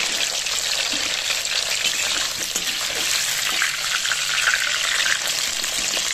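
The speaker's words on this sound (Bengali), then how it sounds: "আলুটা প্রায় ভাজা হয়ে গেছে" Potatoes fry in oil in a pan for a potato and papaya chicken curry, giving a loud, steady, close crackling sizzle that holds evenly throughout with no talk.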